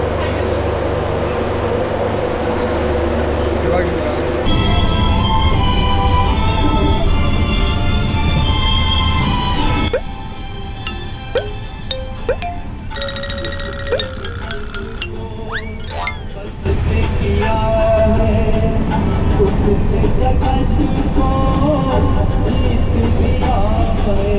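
Inside a moving train in India, a loud steady rumble of wheels and carriage runs throughout, with clinks and rattles and shifting tones as the scene changes and sections grow quieter, then loud again.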